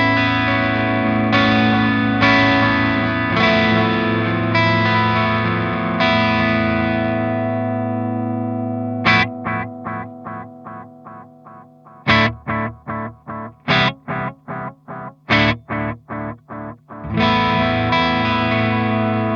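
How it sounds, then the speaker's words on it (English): Electric guitar notes ring out, first sustained chords then staccato plucked notes, each trailed by soft repeating echoes from a warm analog delay effect on a Boss Waza Tube Amp Expander Core. "the analog delay sounds a lot more analog and vintage"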